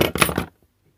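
Metal pins of a screwless electrical socket being snipped during a teardown, a short burst of sharp clicking cuts lasting about half a second, followed by near silence.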